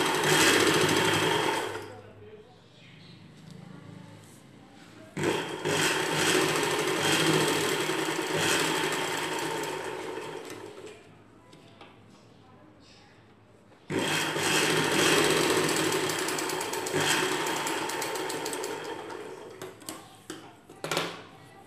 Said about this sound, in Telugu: ఎలాస్టిక్ ని ఇలా లాగి పట్టుకొని కొంచెం కొంచెంగా కుట్టు వేసుకోవాలి